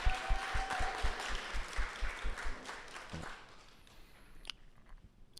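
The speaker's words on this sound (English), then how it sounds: "let's give them another round of applause" Applause for graduating seniors at a celebration event, a burst of clapping that fades out after a few seconds, leaving quiet room ambience.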